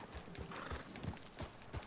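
Horse hooves clip-clop in a steady rhythm in the video game Red Dead Redemption 2, faint and mid-distance, with a brief whinny among the footfalls.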